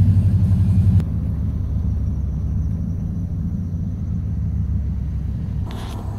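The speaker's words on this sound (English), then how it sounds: "Sorry for the sound of my noisy truck." A noisy truck drives through a small town, its engine giving a steady low rumble from inside the cab, heavier for the first second and then holding an even drone throughout.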